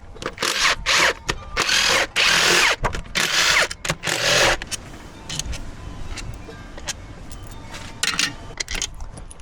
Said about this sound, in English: we're gonna remove all of the CCV filter housing bolts